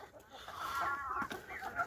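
Chickens clucking on a homestead chicken farm in South Africa, a continuous close murmur of overlapping hen calls with a few sharper squawks, no voices.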